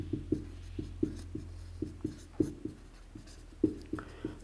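Marker or chalk strokes on a classroom board during a chemistry lesson, a run of short, crisp taps and scrapes in an uneven rhythm, close and fairly quiet with no talk over them.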